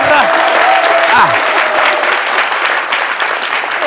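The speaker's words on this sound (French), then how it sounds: "Applaudissez Grand M" A studio audience on a French midday TV show applauds a guest, steady dense clapping throughout, loud and close, with a host's voice briefly cutting in over it.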